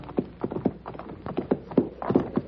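Horses' hooves clop up a hillside in a radio drama, with several irregular, closely spaced hoof strikes at moderate volume and no voices.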